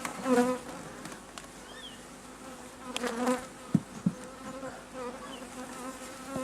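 Honey bees buzzing steadily around an open hive during a frame inspection, a dense close drone with a few louder wooden knocks and handling sounds, and no talking.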